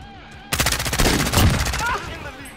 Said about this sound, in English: Sentry gun ready to go.